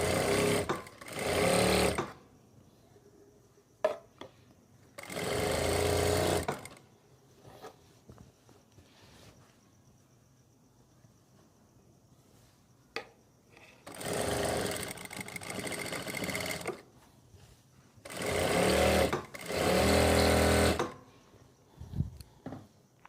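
A sewing machine stitches the seams of palazzo pants in four long whirring runs of rapid needle chatter separated by quiet pauses with small clicks and handling noises, close and with no talking.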